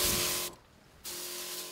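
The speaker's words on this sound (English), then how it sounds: "You spray around the stalk, then directly down the middle." Two bursts of hissing spray from a nozzle applying pesticide to a corn plant, aimed around the stalk and down into the whorl, broken by a short half-second pause, close and steady.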